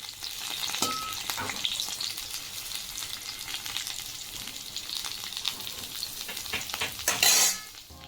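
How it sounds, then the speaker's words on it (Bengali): Pieces of potato and pointed gourd fry in hot oil, a continuous close sizzle with soft stirring scrapes and a brief louder clatter near the end, no voices. "ওদিকে পটলগুলো ভাজা হচ্ছে"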